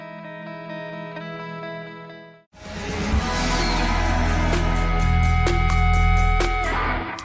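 A new track plays, opening on a soft sustained tonal drone that fades to a brief gap, then bursts into a loud, full band arrangement with steady drum hits carrying through to the end.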